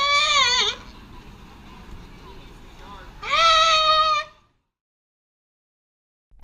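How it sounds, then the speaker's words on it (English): Sea lion calling with two loud, harsh, bleating honks separated by a quieter stretch, each lasting about a second, then silence. "Sea lion."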